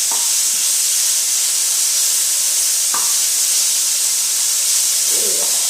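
Beef stir-frying for Chinese beef and broccoli sizzles in a hot pan with a steady, loud hiss throughout, a few soft scrapes of stirring, and brief speech over the top.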